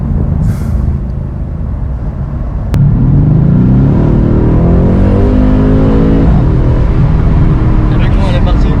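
A 510-horsepower rear-wheel-drive car's engine catches with a sudden bark, then roars loudly as it accelerates hard, its pitch climbing steadily, with voices faintly beneath.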